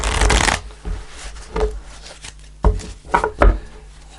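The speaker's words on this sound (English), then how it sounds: "Do one more shuffle." Tarot cards being shuffled by hand in several quick riffling bursts, with a loud rush at the start followed by shorter flutters and taps, close and clear with no talking.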